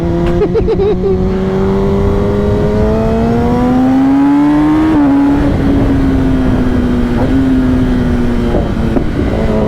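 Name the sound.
Kawasaki ZX-10R motorcycle being ridden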